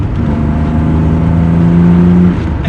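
A 2.8 liter V6 in a Pontiac Fiero revs steadily, a loud, sustained engine drone with a rising harmonic whine that holds for about two seconds before easing off.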